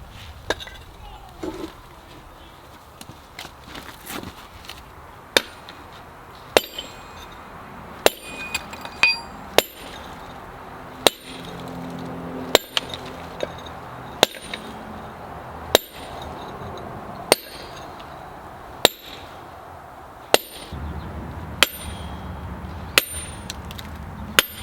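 Hammer and chisel chipping a concrete step: sharp, metallic strikes land one at a time every second or two, loud and close, with light scraping between blows.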